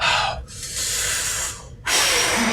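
A voice imitates the hiss of a hypospray injection during a tabletop role-playing session, a short breathy burst followed by a longer sustained hiss, with a sharp snort-like puff at the end.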